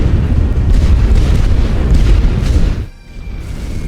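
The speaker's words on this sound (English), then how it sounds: "We're gonna send in the bombers and the artillery and see what happens." Bombers and artillery pound the battlefield in The Great War: Western Front, loud overlapping booms and deep rumbling blasts that cut off suddenly and then return as a lower, more distant roar.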